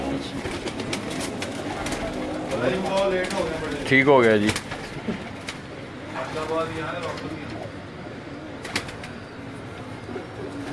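Pigeons, fancy Fanyar breed birds kept by a fancier in Gujranwala, coo and flap close by in a loft, with a louder burst of wingbeats midway while someone talks over them.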